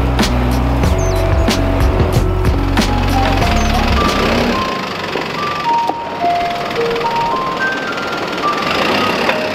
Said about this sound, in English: The garbage trucks play music.